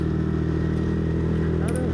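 A Yamaha NMAX scooter ridden on the road gives a steady engine drone with an even, low hum and constant wind and road noise close to the rider.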